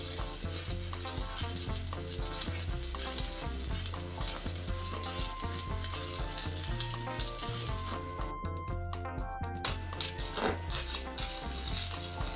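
Stick welding with 1/8 inch (3.2 mm) 7018 rods on a reef anchor gives a steady, close crackling sizzle that runs unbroken throughout, with a faint hum beneath.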